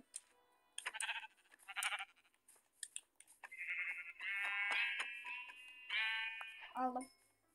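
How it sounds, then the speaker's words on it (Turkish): Sheep bleating in a Minecraft-style block game, several short bleats standing out over background game sounds, with a longer sustained tonal stretch near the end; moderately loud, no talking. "Koyun."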